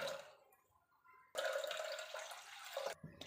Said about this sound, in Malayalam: 2 ഗ്ലാസ് വെള്ളവും കൂടെ ഒഴിക്കണം